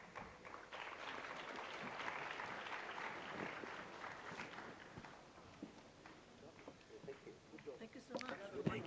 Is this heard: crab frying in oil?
no